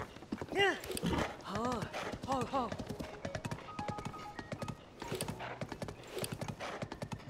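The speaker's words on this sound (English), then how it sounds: "This horse is wild." A horse gallops in the Zelda: Tears of the Kingdom video game, its hooves clip-clopping in a quick, steady rhythm. It snorts and whinnies, and someone talks over it in places.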